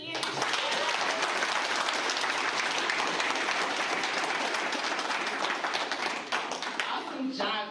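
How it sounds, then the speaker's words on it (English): Audience applause at an apartment investing seminar, continuous crowded clapping sustained at an even level throughout, with a voice briefly audible near the end. "Clap it up for Candace."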